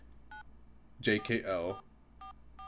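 Phone keypad tones from a visual novel game: a short dual-tone beep, then two more beeps near the end, separated by a burst of spoken words in the middle.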